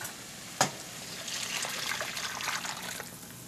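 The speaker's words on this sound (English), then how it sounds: "Now we're going to go and pour that into our rice." A fresh tomato and onion mixture is poured into a pan of rice for Mexican homestyle rice, opening with a sharp click, then a soft, steady trickling pour lasting a couple of seconds.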